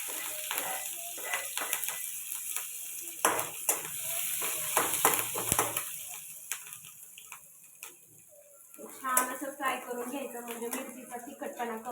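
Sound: finely chopped green chilli and cumin sizzling in hot oil

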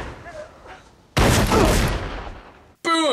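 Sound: gunfire in a film

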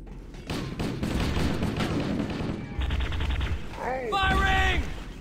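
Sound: 8-bit gun firing in Cursed Halo video game

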